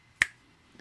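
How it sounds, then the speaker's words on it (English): A single sharp hand clap rings out alone in a quiet room, sudden and fairly close, then quickly decays. A much fainter tap follows near the end. "I tried clapping my hands once"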